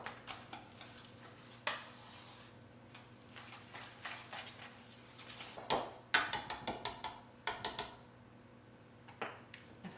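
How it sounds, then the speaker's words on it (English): Whisk or utensil working potato cheese spread in a bowl, a series of sharp clinking strokes against the bowl, bunched in quick bursts, near and fairly quiet. "And I'll give it a little bit of a whisk."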